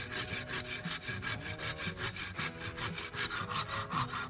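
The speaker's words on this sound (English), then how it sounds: "I'm using a handsaw to cut along the mark I just made" A handsaw cuts a wooden dowel held in a vise with steady back-and-forth rasping strokes, about four per second, close and even, with no talking.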